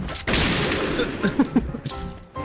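Bursts of gunfire in the video game Point Blank, a close, loud rattling volley with sharp impact cracks, breaking off briefly before resuming, with faint talk mixed in.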